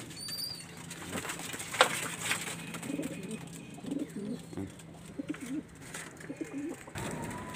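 Domestic pigeons at a loft, ahead of release, with soft cooing and rustling and bursts of wing flapping through most of the stretch, at close to moderate distance and fairly quiet.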